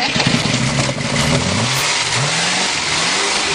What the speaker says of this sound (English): The Cadillac is running.